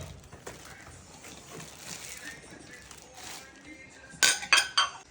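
Small dishes, some of them antique, being washed before Eid: a quiet wash of running and handling noise, then a quick burst of several sharp, close ceramic clinks near the end.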